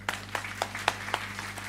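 Scattered audience applause at an international conference, a handful of distinct hand claps spaced irregularly over a steady low hum, fairly faint and distant.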